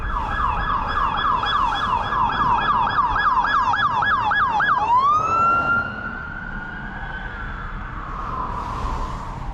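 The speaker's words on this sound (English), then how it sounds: "You hear the cop sirens?" Police sirens on a city street in Inglewood, Los Angeles, around 1:20 at night: a rapid yelping siren switches to a long rising and falling wail, loud and fairly close over traffic rumble.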